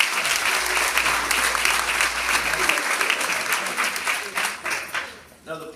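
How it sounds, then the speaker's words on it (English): A crowd at a state championship basketball celebration breaks into sustained, loud applause that fills the space for several seconds before thinning out toward the end. "give them another round of applause"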